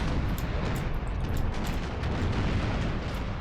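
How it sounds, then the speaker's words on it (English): Broadside cannon fire from sailing warships in Empire: Total War rolls on as a continuous dense rumble of overlapping booms and crackling bursts, loud and sustained with no speech over it. "Any chance you could fire broadside into this one?"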